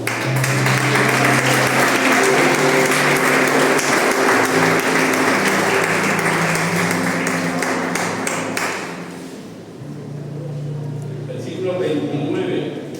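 A church congregation claps together in a dense, loud wave of applause that fills the room for several seconds, then thins out and fades, with voices mixed in.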